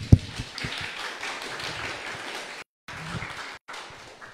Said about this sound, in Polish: Teraz brawa.